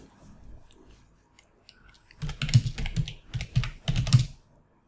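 A computer keyboard being typed on while adding a text annotation in Krita animation software: after a quiet start, a close burst of quick, uneven key clicks comes in short clusters, with no speech.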